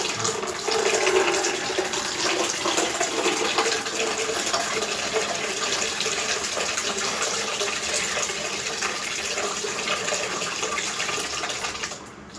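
Water gushes and splashes steadily from the mouth during jal dhauti, the yogic water-cleansing practice, a continuous close, loud pouring sound that lasts throughout and cuts off at the very end.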